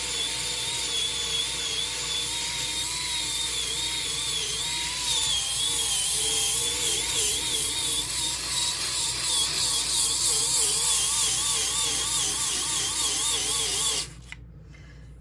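An electric sander runs steadily on a wet resin piece, a loud continuous whine with wavering pitch that holds for about fourteen seconds before cutting off abruptly.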